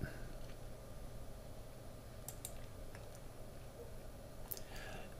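A computer mouse gives a few faint, sharp clicks, two close together and then another later, over a low steady background hum.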